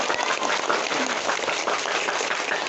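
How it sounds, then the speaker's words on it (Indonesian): Dense, steady applause from an audience honoring Bapak Ali, a continuous wash of many hands clapping at even loudness throughout, with no distinct voices standing out. "Sekali lagi tepuk tangan untuk Bapak Ali."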